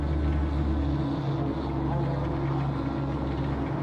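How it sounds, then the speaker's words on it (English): A swarm of flies buzzes in a retro psychological horror game set under a lighthouse, a dense, steady, loud drone that fills the scene without pause. "They sound like flies, but they look like moths."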